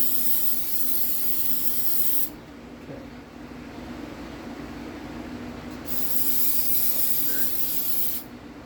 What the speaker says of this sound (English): Let's just spray brake clean all over those fresh painted tins